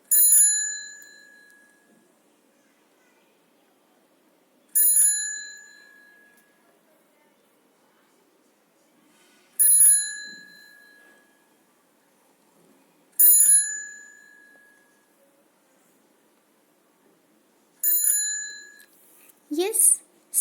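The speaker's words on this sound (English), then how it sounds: "it's the bicycle bell ringing" A bicycle bell rings five times, each a single bright ding with a ringing decay, spaced several seconds apart with silence between, followed by a brief chirpy sound.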